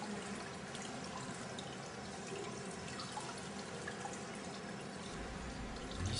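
Plaster dental model and flask rinsed under a running tap, a steady close wash of flowing water with little variation throughout.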